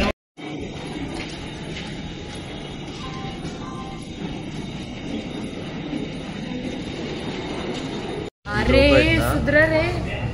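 A local suburban train rolls along with a continuous rumble and rattling wheel noise, a brief gap, then louder squealing wheels near the end, while people talk over it.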